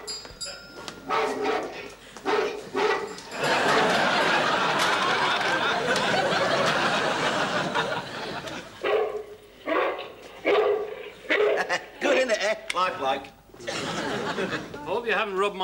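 A dog barks and yips in a burst of loud, overlapping noise, then in scattered short barks mixed with chuckling and people talking nearby.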